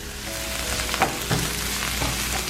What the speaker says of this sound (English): You can hear that sizzling